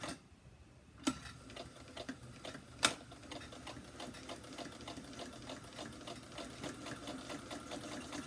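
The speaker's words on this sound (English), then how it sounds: "just sew in 1/4 inch. And I'm gonna back stitch." A sewing machine stitches a quarter-inch seam with a backstitch, its rapid, even ticking needle rhythm running steadily throughout, with a couple of sharper clicks near the start.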